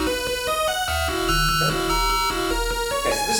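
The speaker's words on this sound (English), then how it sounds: "if I take exactly the pitches and durations there are in the original code of Manic Miner, well, it sounds like this." Manic Miner video game theme played from the original code's pitches and durations, a buzzy square-wave melody of quick stepping notes over a droning low tone, dense and continuous.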